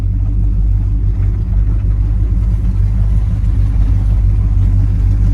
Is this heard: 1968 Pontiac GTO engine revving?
yes